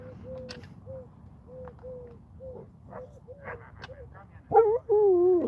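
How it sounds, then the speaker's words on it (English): A dog barks outside in short repeated yelps and whimpery calls, moderately distant, ending in a louder burst with a person's voice, as a woman walks her dog past. "Just a lady with a doggy."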